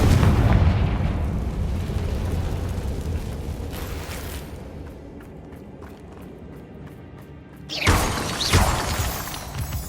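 A Confringo blasting spell explodes in Hogwarts Legacy, a loud, rumbling blast with crackling debris that decays over several seconds, followed near the end by a second burst of crackling impacts.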